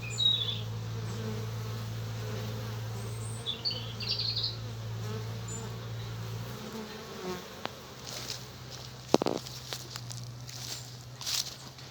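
Honeybees buzz steadily around an active hive on a fine day, a dense, continuous drone close by. A few brief knocks and rustles break in toward the end.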